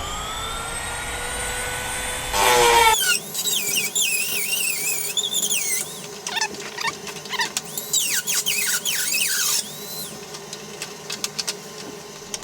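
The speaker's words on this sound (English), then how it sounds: "I cut it a little short on purpose so I can finesse it with a Dremel" A Dremel rotary tool trims a hood latch cutout on a Pontiac G8 hood, giving a loud, high-pitched whine with rising and falling pitch in repeated bursts as it bites into the material, then short pauses between passes.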